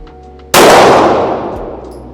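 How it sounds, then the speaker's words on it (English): A single loud, close .308 rifle shot at an outdoor shooting range, a sharp broadband crack followed by a long decaying roar of echo trailing off over about a second and a half, with no speech. "it's not fun to be anywhere around a 308 when it's shooting"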